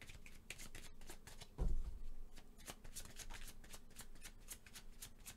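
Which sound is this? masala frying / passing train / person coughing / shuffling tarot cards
shuffling tarot cards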